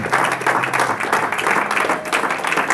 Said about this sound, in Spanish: ¿Alguien quiere darle otro aplauso a Jesús?